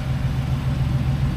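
A car engine idles with a steady, low, smooth purr, close and continuous with no talk over it.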